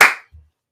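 A single sharp clap rings out close and loud at the start, followed by a brief dull low thump, then silence for the rest of the moment.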